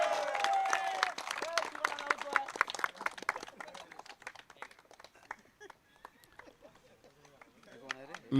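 An audience claps for the man of the match at a cricket prize ceremony, with scattered claps running under a loud announcer's voice and thinning out toward the end.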